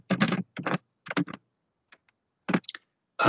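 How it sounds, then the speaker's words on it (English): Typing on a computer keyboard: bursts of rapid, close key clicks in a few short runs separated by pauses, with no speech. "it would be a case of typing in the facilitator's email and their name"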